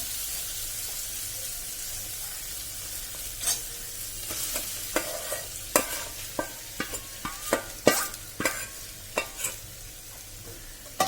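Ground lentils frying in oil with chili thecha, cooked as Maharashtrian vatli dal prasad: a soft steady sizzle with a rising run of sharp spatula scrapes and taps on the pan, close by and with no talking.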